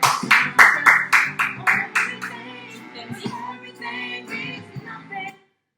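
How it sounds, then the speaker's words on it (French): Participants at the end of a circuit training and stretching class clap together in a brisk run of about ten loud, evenly spaced claps, followed by upbeat music playing alone. "vous pouvez vous applaudir bien fort"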